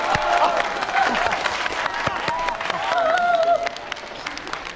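A small group applauding indoors: brisk, continuous clapping from several people at close range, with voices mixed in over the claps.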